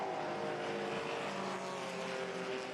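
A Porsche 911 race car, car number 70 with a flat-six, runs at speed during the Le Mans Classic historic race, a loud continuous engine roar with a steady high whine throughout.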